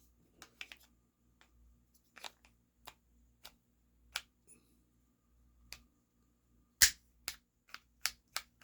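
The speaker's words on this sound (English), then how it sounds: "this one hasn't been pierced yet. Now it is." Knife strikes against a stab-proof vest, including the Mercury Ice TR50 Torpedo knife piercing it, heard as sharp isolated impact clicks and snaps at irregular intervals, with one louder hit near the end and several quick ones after it.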